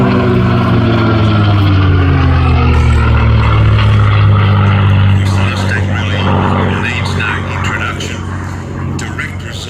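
A propeller aircraft flying at the Midlands Air Festival air display holds a loud, steady engine drone that eases slightly toward the end, with a commentator talking over it throughout.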